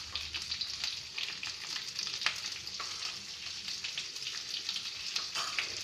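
Dry prawns being sautéed with salt and turmeric in a pan, giving a steady close sizzle with crackling pops and occasional scraping stirs throughout.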